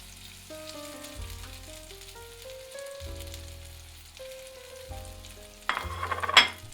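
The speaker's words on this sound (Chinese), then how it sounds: "平底锅中放入黄油，把番薯平面朝下煎3到4分钟" Sweet potato halves fry flat side down in melted butter in a flat pan, with a soft melodic tune playing first and a burst of louder sizzling near the end.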